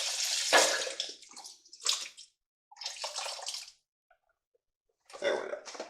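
Beef broth poured into a pot of short rib chili, splashing liquid in bursts with brief pauses, close and fairly loud.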